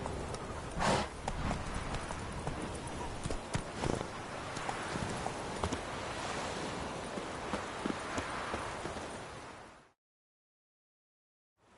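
Roach the horse clip-clops steadily in The Witcher 3, hoofbeats close and continuous for about ten seconds over a soft outdoor wash before cutting off to silence.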